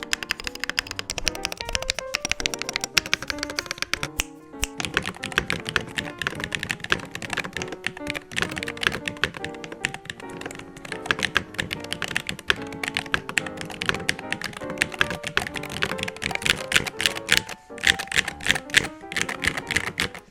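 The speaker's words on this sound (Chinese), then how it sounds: "所以现在就让我们来听听看这把键盘打字， 来感受一下它的声音跟手感效果吧。" Fast, continuous typing on a Madlions Nano 68 Pro magnetic-switch keyboard: dense, close clacking keystrokes with a short pause early on, no speech.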